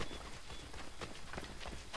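An assassin's horse in Assassin's Creed 3 trots along with faint, steady hoof clip-clops blended into a soft, noisy game ambience.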